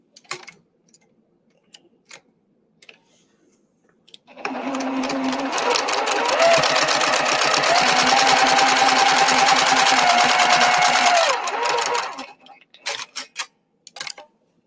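A sewing machine runs steadily for about eight seconds, stitching fabric for handmade gifts, its whirring motor loud and close with a few soft clicks and taps before and after.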